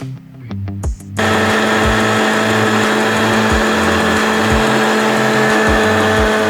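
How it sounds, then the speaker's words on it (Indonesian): Blender running on papaya, a steady loud whirring drone that starts abruptly after a second of quieter handling noises and holds with a faint periodic thump. "Next pepayanya aku blender"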